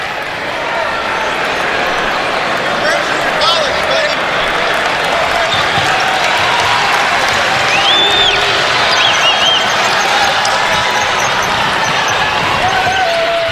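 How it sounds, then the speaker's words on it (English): A basketball arena crowd at a Dayton home game against VCU in 2019 roars and cheers for Dayton, a loud sustained wash of noise with scattered whistles and shouts under commentary. "And that gives this crowd something to cheer about"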